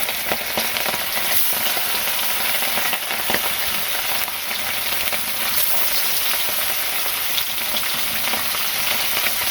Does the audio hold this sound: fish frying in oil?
yes